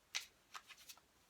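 Tarot cards being shuffled by hand in a quiet room, a few soft riffling bursts and light card flicks, close and faint, with no talking.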